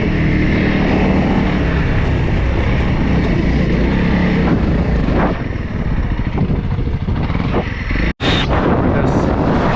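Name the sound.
Honda CRF300L dual sport motorcycle at full throttle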